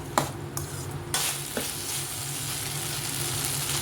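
Carrot, capsicum, beans and peas stir-fry in a stainless steel pan, a steady close sizzle broken by a few sharp scrapes and clacks of stirring, with no talk.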